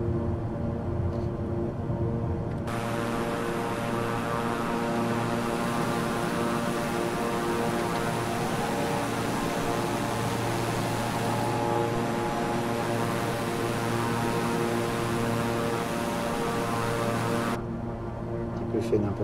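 A steady, loud propeller airplane engine drones continuously during a climb in the video game Flight Simulator 2020, a constant rich hum with a brief change in tone near the start and the end.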